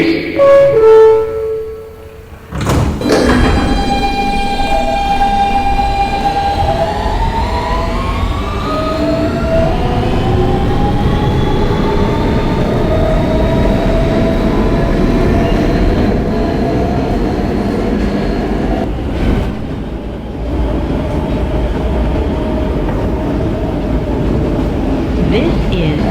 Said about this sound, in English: This is a Manhattan-bound W local train.